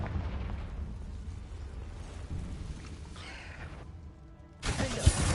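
Fiery Confringo spell blasts in Hogwarts Legacy, a sustained rumbling roar that eases off and then breaks into a sharp, loud new burst near the end, with no talking.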